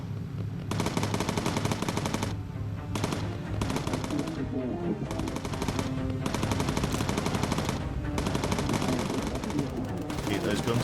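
Machine guns firing from a bomber's gun positions in the video game Bomber Crew, dense continuous rattling bursts that stop briefly and restart, loud and close, with a voice talking over the gunfire.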